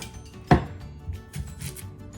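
A knife mincing onion on a cutting board for chicken salad: one sharp, close chop, followed by a few softer, faint taps against quiet.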